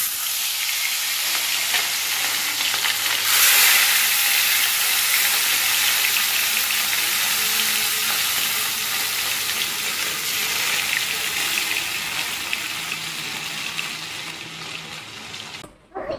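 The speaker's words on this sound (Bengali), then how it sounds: "তেল গরম হয়ে গেছে, এবার আমি ইলিশ মাছটা দেবো।" Hilsa fish frying in hot oil, a loud, dense, continuous sizzle that holds steady throughout, with a brief clatter near the end.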